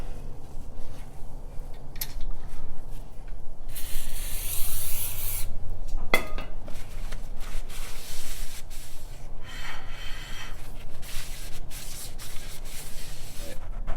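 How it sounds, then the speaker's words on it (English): Brake cleaner sprayed onto a Jeep Wrangler brake rotor during a Power Stop Z36 brake install, a loud hissing spray burst midway amid close rubbing and scraping sounds. "make sure the rotor's clean with some brake clean"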